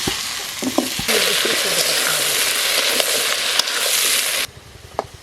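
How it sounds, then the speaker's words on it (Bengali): Potatoes sizzle steadily in hot oil with salt in a wok, a loud continuous frying hiss with light stirring clinks, dropping abruptly quieter near the end. "লবণ দিয়ে আলুটা ভেজে নেব।"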